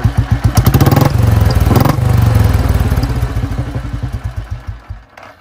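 A Royal Enfield Bullet 500 single-cylinder motorcycle is kickstarted and fires up, its loud, close thumping idle pulsing steadily before the engine slows into spaced chugs and cuts out.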